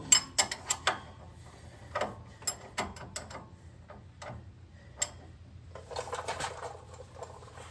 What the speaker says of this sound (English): I'm using a 3/4 wrench on it.